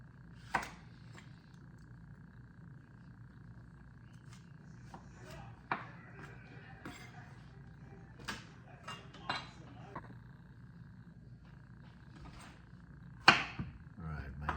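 A knife slicing Mexican squash lengthwise on a cutting board, soft irregular taps and clicks of the blade striking the board, quiet and close, with a few sharper knocks.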